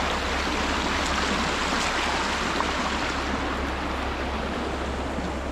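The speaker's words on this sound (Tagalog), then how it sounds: "Kala ko wala nang tubig na dumadaloy," A rural mountain water supply source keeps flowing, giving a steady, dense rushing stream sound, constant in level and heard close with no other sounds.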